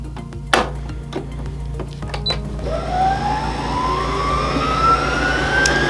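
A Baby Lock sewing machine winds its bobbin with a steady electric motor whir that rises in pitch as it spins up, running continuously after a faint click.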